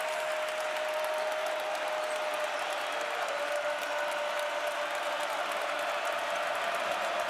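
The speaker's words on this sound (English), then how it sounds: "They're going to cheer instead of be quiet when he shoots." College basketball crowd at a Rutgers versus Michigan game roars and cheers continuously through a free throw attempt, a broad steady wash of noise heard from within the arena.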